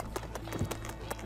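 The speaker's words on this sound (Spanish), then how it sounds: "No le tires nada a la rienda cuando quieras que trote, porque eso lo frena." Hooves of a tired horse trotting under a rider, a few clip-clop beats spaced unevenly across a short stretch, close and moderately loud.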